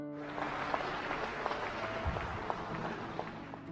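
Applause from the audience at the Padma awards ceremony in Rashtrapati Bhavan, a sustained crowd of hands clapping steadily with scattered sharper claps, moderately distant and without talk.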